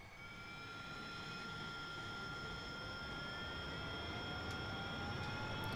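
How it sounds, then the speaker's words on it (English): AV-8B Harrier II jet engine spooling up during a cold start in the DCS World combat flight simulator, a steady rising turbine whine over a broad rumble, gradually growing louder with no talk. "Okay, and we now have engine start."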